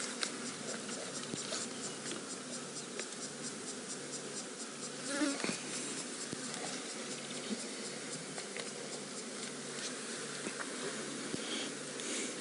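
Flies swarm around a fresh buffalo kill on a safari, giving a continuous dense buzzing with overlapping wing drones at moderate level, steady throughout with no voices.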